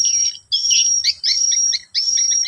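Recorded swiftlet call made for a hexagonal nest-house speaker: bright, high chirping twitters in repeated bursts with short gaps, loud and close, with no voices.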